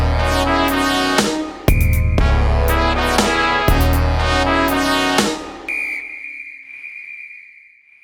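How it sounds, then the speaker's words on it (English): A referee's whistle is blown in several sharp, loud bursts over a busy musical backdrop, ending in one long sustained shrill tone that fades out. "Somebody take his whistle!"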